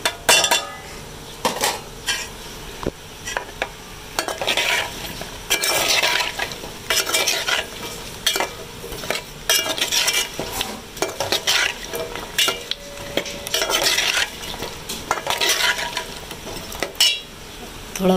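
Potatoes and peas fry with spices in a pan, sizzling steadily while a spoon stirs and clinks against the metal at frequent, irregular intervals.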